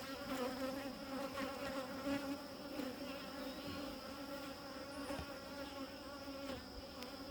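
Honey bees swarming around an opened hive while it is tended, a dense continuous buzzing drone close by with individual bees whirring past, steady throughout.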